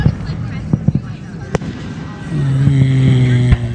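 Fourth of July fireworks at a neighborhood show bursting, several sharp pops and cracks in the first seconds followed by a louder boom and crackle, with people talking and reacting nearby.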